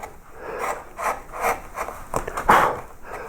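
A wood gouge carving a Celtic knot pattern, giving a series of short scraping, rasping cuts at close range, each stroke a quick rough swish with brief pauses between.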